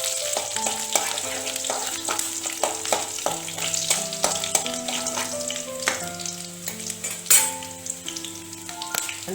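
Green chilli, ginger and garlic frying in oil over a low flame, a steady soft sizzle with scattered stirring clicks and scrapes throughout, close and continuous with no talk.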